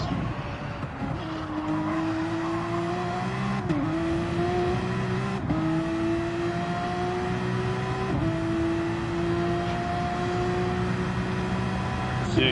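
A simulated race car engine from a racing game rises through the gears on track, its tone climbing in repeated sweeps with short drops at each shift, loud and continuous with faint talk underneath.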